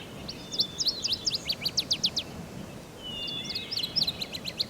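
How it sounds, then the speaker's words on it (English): Several birds chirp and trill in quick bursts of high, bright notes, a clustered flurry followed by a pause and another run of calls, moderately close over a soft background hiss. "let the birds multiply in the earth"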